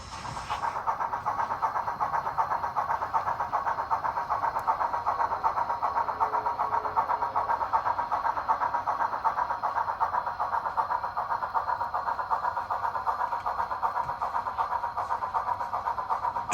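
A locomotive pulls coal cars ahead one at a time during loading, giving a steady, unbroken rumble and hiss at moderate distance for the whole stretch, with no talking.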